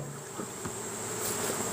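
Honeybees drone in a steady, close, low buzz at an open hive during late summer hive work, with no talk over the brief sound.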